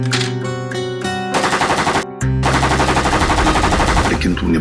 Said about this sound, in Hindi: इस AK-47 की आवाज से कोई ना कोई आएगा।